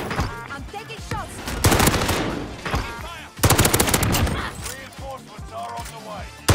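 Gunfire in the Call of Duty Warzone video game crackles in two loud, rapid automatic bursts amid busy game noise, with a voice talking between them.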